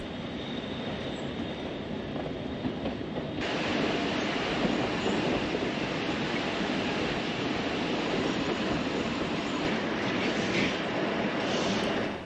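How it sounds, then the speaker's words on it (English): A train works along the railway line through the Pichi Richi Pass near Woolshed Flat, between Quorn and Port Augusta, producing a steady, loud rumble of wheels and cars that swells slightly and continues throughout. "There certainly is some great scenery as the train works its way along the railway line that takes you through the Pichi Richi Pass."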